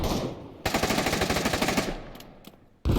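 Gunfire in a VR shooter match rips out in a fast, continuous burst lasting about a second, then trails off into fainter shots before another loud burst at the end.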